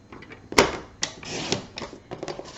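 A paper trimmer cuts through cardstock for handmade cards, giving a few sharp clicks and a scraping slide of the blade, close and fairly quiet with no talking.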